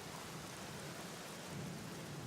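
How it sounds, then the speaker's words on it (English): Rain falls steadily in the Black Mirror video game, a continuous soft hiss of drops with a low rumble underneath. It stays quiet and unbroken throughout, with no voices. "It's raining."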